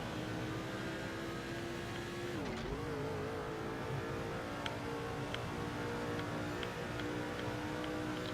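Custom stock car engine droning in the NASCAR 07 video game during a race start, a steady buzzing note that dips and recovers midway, with light tire and contact ticks, fairly faint throughout.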